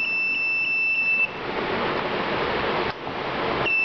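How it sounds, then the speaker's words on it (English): A steady high-pitched electronic buzzer from a gear position alert system, sounding when a non-permitted gear is selected, beeps and then holds a continuous tone, cuts off, and returns briefly near the end over a broad hissing background. "if at all I place with the third one, like which is not permitted gear, you can get like buzzer alarm"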